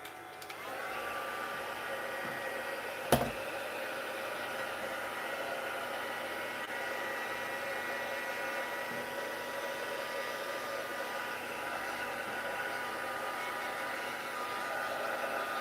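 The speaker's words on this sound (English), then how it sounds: "So I'm going to blow dry this way and not that way." Hair dryer blowing steadily over a watercolor painting page, a constant close whooshing roar with a brief click near the start, holding unbroken throughout with no talking.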